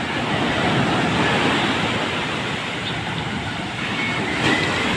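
Ocean surf on a beach after Typhoon Kristine, a continuous loud wash of breaking waves mixed with wind rumble on the microphone, with no voices.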